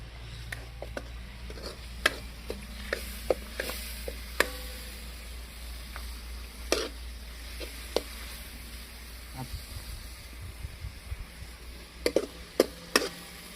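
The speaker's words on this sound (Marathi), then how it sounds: "2 मिनटं आपण हा सगळा मसाला आहे ना आपला भाजून घेऊ" Masala spices dry-roasting in a pan for dhaba-style kaleji feta, with intermittent sharp scrapes and taps of a spatula over a low, steady sizzle; no talking.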